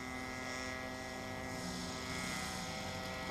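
Model Piper Cub airplane flying high alpha overhead, a steady whining propeller and motor drone that holds level and alone for the whole stretch.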